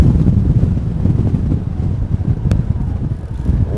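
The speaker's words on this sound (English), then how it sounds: "Wow, it is unbelievably windy up here" Strong wind buffets the microphone at a wet, muddy supercross track, a loud, continuous low roar with gusty fluctuations and no voices.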